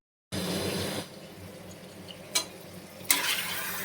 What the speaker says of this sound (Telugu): సో మనం జస్ట్ ఇవి పచ్చివాసన పోయేంత వరకు మనం అలా ఫ్రై చేసుకోవాలి అంతే.